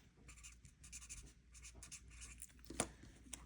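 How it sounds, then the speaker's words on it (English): Writing "Shop Small" on paper, quiet close scratching pen strokes in short bursts with one sharper tap near the end, alone without talk. "So we will write Shop Small on here."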